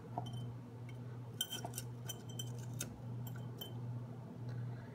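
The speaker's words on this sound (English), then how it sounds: "Now it's time to layer everything into our jar." Faint clinks and taps of sliced carrots and onions being dropped into a glass pickling jar, scattered irregular knocks over a low steady hum.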